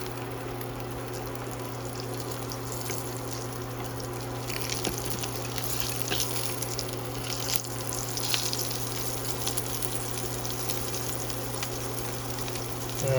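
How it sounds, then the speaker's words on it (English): Steady crackling sizzle of food frying in a pan, continuous and fairly quiet, over a low electrical hum. "turn it back on to reheat it back up to frying"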